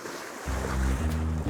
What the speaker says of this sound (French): Tu sais ce que je vois arriver là? Des vagues.